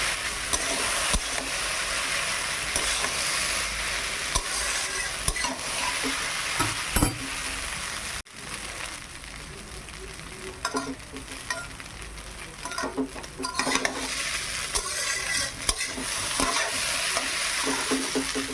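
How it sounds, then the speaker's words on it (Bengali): Chow mein being stir-fried in a pan with tomato sauce: a steady, close hiss of frying with frequent scraping and tossing sounds from stirring, loud and continuous throughout. "টমেটো সস দিয়ে একটু নেড়ে নিই"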